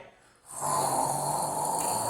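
A person imitates loud snoring with a continuous, rough, rasping throat noise. It starts abruptly after a short quiet moment and holds steady and close without pause.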